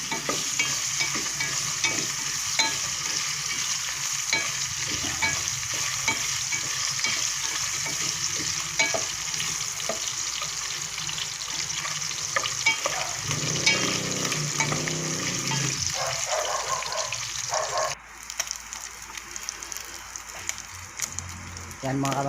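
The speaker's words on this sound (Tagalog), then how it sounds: "Hintayin lang natin na maprito yung ating karne para lumambot pa siya ng konti." Meat frying in oil in a pan for ginataang laing na gabi gives a steady, close sizzle with stirring scrapes throughout, briefly dipping near the end before resuming.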